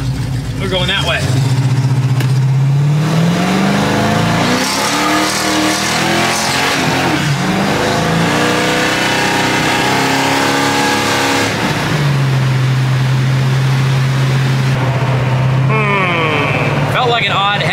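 A Pontiac 455 V8 car pulls hard through several gear shifts, its engine note rising in pitch, dropping at each change and climbing again, loud and close from inside the car while people talk.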